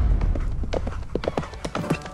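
Horse hooves clip-clop at a quick galloping pace as a sound effect in a children's folk tale, a steady rhythmic run of loud close hoofbeats.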